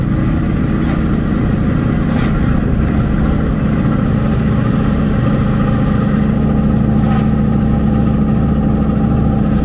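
Truck with a faulty 10 bolt rear end, engine revving loudly and close with a droning mechanical whine and low rumble running steadily throughout.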